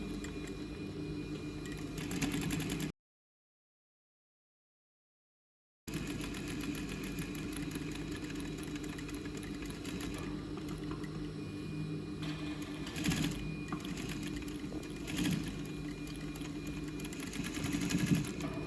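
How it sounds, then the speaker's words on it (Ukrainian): A sewing machine stitches the overlocked edge of a facing onto the lining of a pocket with a shaped side piece. The motor hums steadily with a brief silent break partway through and a few soft knocks, and no speech. "настрочити обметаний край обшивки на підкладку."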